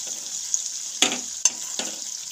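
Chopped capsicum drops into sizzling masala for navratan korma. A steady frying hiss is broken by a few sharp bursts of crackle as the pieces land and are tossed, heard close with no talking.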